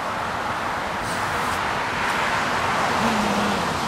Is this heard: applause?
no